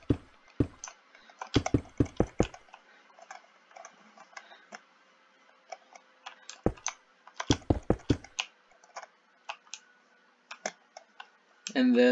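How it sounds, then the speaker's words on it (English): Loud clacking of a computer keyboard, heard in quick clustered bursts of close, sharp key strikes separated by scattered single taps and pauses. "Sorry for my loud ass keyboard."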